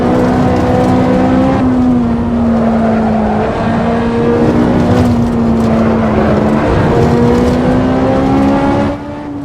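Ferrari 458 Italia V8 in the Assetto Corsa racing game on the Nürburgring, loud sustained engine drone with rising and falling revs through gear changes, close and continuous with no talk.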